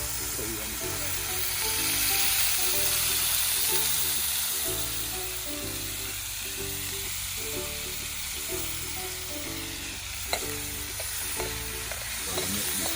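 Frying in a pot outdoors to render oil, Jamaican style: a steady, loud hiss of hot fat runs throughout, with a rhythmic low pulsing layered underneath and a single sharp knock near the end.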